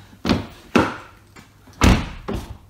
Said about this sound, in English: now when I open the door, the window goes up, as it should do